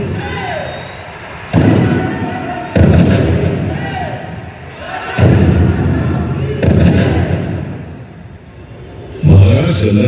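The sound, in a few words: cannon salute fired in fort light and sound show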